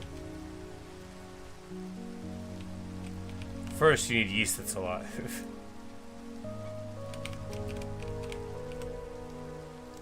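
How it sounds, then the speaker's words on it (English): Steady rain patters down in the video game Minecraft, a soft continuous hiss under a voice talking partway through. "Ah, the rain. Magnificent."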